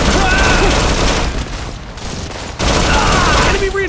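Rapid automatic gunfire rattles loudly and continuously in Modern Combat 4: Zero Hour, an Android shooter, pausing briefly before another sustained burst, with battle noise throughout.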